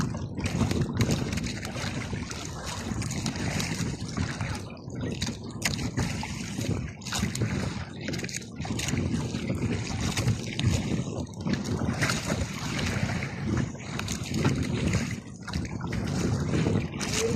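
A small fishing bangka rides strong waves in heavy wind, with a constant loud roar of gusts and rushing water buffeting the boat throughout and only faint hints of voices.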